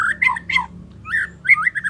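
Bright, whistled calls of a young wild white-rumped shama in short phrases, a pair of quick notes followed by rising and falling warbles, close and clear against a quiet background.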